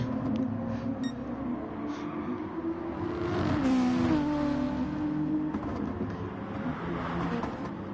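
Toyota Supra GT race car in a racing video game at Brands Hatch, its engine droning steadily throughout with a rising rev swell in the middle, loud and continuous with no talk.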